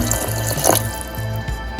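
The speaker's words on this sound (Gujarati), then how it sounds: "અડધો ગ્લાસ જેટલું આપણે પાણી એડ કરીશું" Water pours into a pressure cooker holding broad bean curry spiced with coriander-cumin powder, about half a glass, as a steady close splashing stream with a few brief surges.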